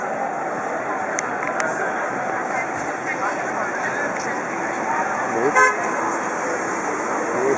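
Road traffic resumes after the Zug der Liebe street parade for love and peace: a steady wash of passing cars with a short horn toot near the end, while people talk nearby.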